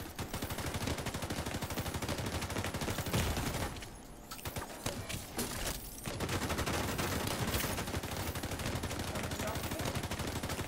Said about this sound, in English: Just keep shooting me.